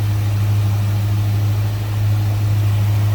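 A 1973 Mercury Cougar XR7 convertible with an Edelbrock 4-barrel carburetor and K&N air filter idles smoothly, a loud steady low engine hum holding even and unbroken for over three seconds, with no talk.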